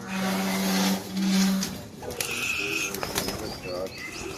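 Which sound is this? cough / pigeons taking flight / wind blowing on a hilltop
pigeons taking flight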